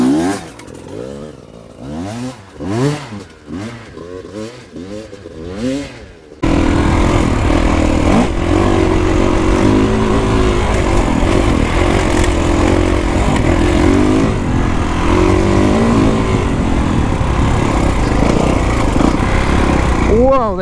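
Two-stroke dirt bikes lug up a hillclimb, a steady loud engine drone with rising revs that stays constant after an earlier stretch of voices over gentler engine noise.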